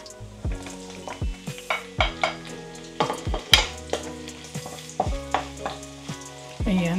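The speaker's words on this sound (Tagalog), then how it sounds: "And now, we will have to fry the onions and garlic." Onions and garlic sizzle in hot oil in a pan, with steady frying crackle and repeated clacks of a utensil stirring, close and clear with no talk.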